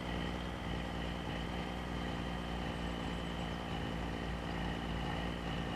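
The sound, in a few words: 1,000 horsepower tractor engine running, from a farming video game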